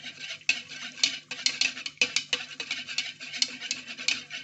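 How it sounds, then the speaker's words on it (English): Allantoin powder is stirred into water with a utensil in a container: rapid, close scraping and tapping strokes in a steady irregular rhythm, moderately loud, with no voices. "Go ahead and stir in my allantoin powder."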